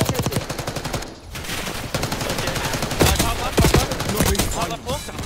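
Rapid, loud automatic gunfire in the video game Black Ops 6, dense bursts of shots running almost continuously, with sharper cracks standing out late in the sequence and no voices over it.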